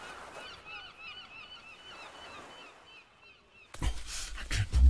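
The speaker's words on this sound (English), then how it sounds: "real seagulls, not made of yarn." Seagulls calling in the adventure game Broken Age, several overlapping cries in a steady scatter at moderate volume, followed near the end by a loud burst of rumbling game noise.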